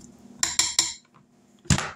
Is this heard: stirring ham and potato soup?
yes